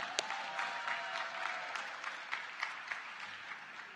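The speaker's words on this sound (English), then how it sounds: "Let's give them a round of applause." A university commencement crowd applauds for a long stretch, steady and fairly distant, with a few sharper claps and faint cheers rising from the mass of clapping.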